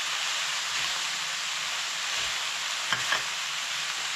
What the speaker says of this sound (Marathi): मीठ ऍड केलें म्हटल्यार परत ते मातशे हलकेशे मिक्स करा.